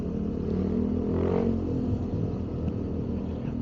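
A vehicle with an open muffler follows close behind, its loud, continuous rumbling exhaust holding steady throughout, with a slight surge partway through and no talk.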